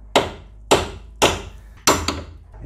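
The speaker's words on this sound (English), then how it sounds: "Now with a hammer you just need to kick it out from the knuckle." Four sharp metallic hammer blows, evenly spaced about half a second apart, strike a steering knuckle to knock out the outer tie rod end ball joint on a 2003 Opel Corsa C; each hit is loud and close with a short ringing decay.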